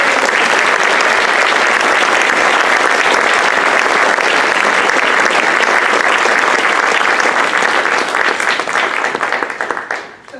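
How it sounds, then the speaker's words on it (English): Loud, sustained applause from a standing audience at a 2019 Park Forest Hall of Fame induction ceremony, dense clapping filling the hall before tapering off at the end. "So why don't we all stand and give a big round of applause."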